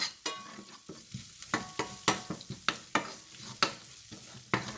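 Coriander, turmeric and asafoetida powders fry in hot oil while a spoon stirs them, with a soft steady sizzle under a string of sharp scraping clicks roughly every half second. No voices.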